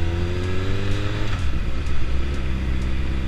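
A Honda Hornet 600 motorcycle engine on the road, a steady, smooth drone with rising harmonic tones as it pulls from low revs, then a shift to a lower, rougher note, under constant wind rush.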